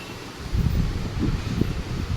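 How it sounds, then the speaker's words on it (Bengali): Storm wind blowing hard outdoors, a steady low roar that swells into gusts after the first half second and keeps rushing without a break, with no voices. "রীতিমতো একদম ঝড় উঠেছে"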